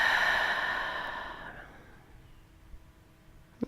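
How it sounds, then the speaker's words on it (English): A long, deep exhale at the close of a yoga practice, a soft breathy rush that fades over about two seconds, followed by near quiet and a couple of faint small knocks near the end. "And a deep exhale."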